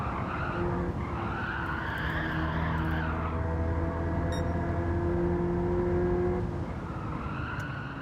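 A race car in a racing video game skids hard under a loud, sustained engine drone, tires squealing continuously for several seconds before the noise eases slightly near the end.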